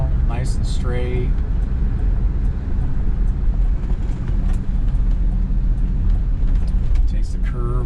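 A 1977 Ford LTD II Brougham with power steering hums and rumbles on a test drive, a steady cabin drone of engine and road noise with voices talking over it.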